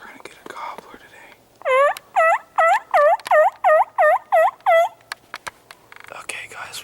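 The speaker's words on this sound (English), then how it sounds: "Turkey in sight." Wild turkey gobbling loudly during a Montana turkey hunt, a run of about eight rapid, evenly spaced gobble bursts close by, with quiet rustling and faint murmuring before and after.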